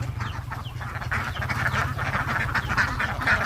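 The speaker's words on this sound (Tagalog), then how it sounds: "Yan pato yan oh." Ducks quack loudly and close together, a rapid run of nasal calls over a busy low burble of poultry sounds with no talking.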